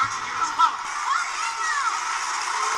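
Crowd cheering for Daniel at a karate tournament in The Karate Kid Part III, a steady wash of distant shouts and whoops from a large audience, with a few brief voices rising above the roar.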